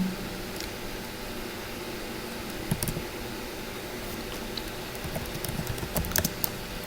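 Sparse keystrokes tapped on a computer keyboard sit under a steady hum of room noise, arriving in scattered short bursts rather than fast continuous typing.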